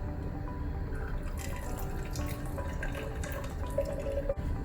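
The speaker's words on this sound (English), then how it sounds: "And I am gonna pour out some of the clover tea." Clover tea being poured into a cup, a soft continuous liquid trickle with light drips, close and quiet against faint background hum.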